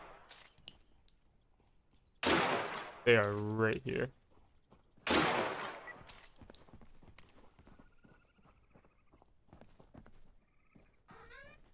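Gunfire in the survival video game Deadside: two sharp, loud bursts a few seconds apart, with a voice speaking between them and faint hoof clops in the background.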